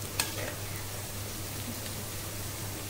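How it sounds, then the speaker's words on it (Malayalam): Coconut pieces, mustard seeds, shallots, green chilli and curry leaves frying in oil, a steady soft sizzle throughout with a faint pop near the start. "നമ്മുടെ തേങ്ങാക്കൊത്തും കടുകും കൊച്ചുള്ളിയും പച്ചമുളക് കറിവേപ്പില ഇത്രയും കൂടി ഒന്ന് വയണ്ട് റെഡിയാവട്ടെ."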